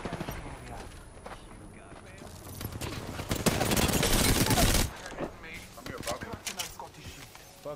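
Gunfire in the video game Apex Legends: rapid volleys of close shots, with a dense sustained burst in the middle, mixed with scattered clatter and voices.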